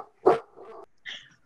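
A dog gives one sharp, fairly close bark, followed by a softer, brief whimpering yip.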